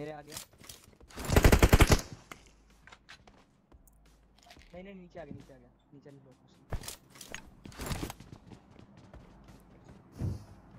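Gunfire in a BGMI battle royale firefight, with a loud burst of rapid automatic fire followed by scattered single shots at varying distances, while someone talks over the action.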